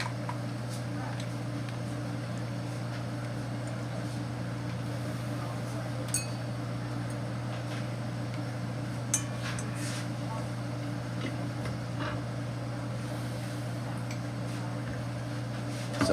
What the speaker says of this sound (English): That's the immersion blender you're gonna hear.